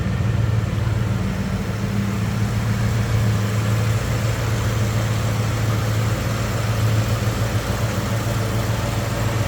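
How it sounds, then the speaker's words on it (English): A smooth-running big-block V8 in a 1967 Chevrolet Chevelle SS convertible idles with a steady, even low rumble, close and moderately loud, without talk. "As you can see, smooth running big block."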